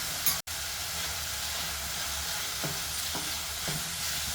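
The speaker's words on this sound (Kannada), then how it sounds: "ಮೀಡಿಯಮ್ ಉರಿ ಇಟ್ಕೊಂಡೆ ಚೆನ್ನಾಗಿ ಮಗಿಸ್ತಾ ಮಿಕ್ಸ್ ಮಾಡ್ತಾ ಇದೆ" Okra and tomato curry fries over medium heat in a pan, a steady broad sizzle running throughout with a few soft scrapes of stirring near the end.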